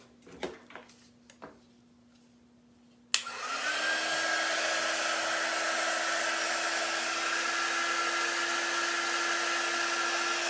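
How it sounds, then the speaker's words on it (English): A handheld quick-dry heat tool drying chalk paint on a DIY autumn craft switches on after a few light taps and blows with a steady, loud whirring hiss that holds unbroken to the end, no talk over it. "This is our quick dry tool."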